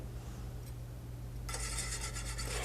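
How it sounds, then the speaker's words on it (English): Metal whisk scraping and rasping through flour and melted butter for a roux, a steady close scratchy rhythm that turns louder and busier partway through, with no talking. "I'm gonna whisk in the majority of the flour."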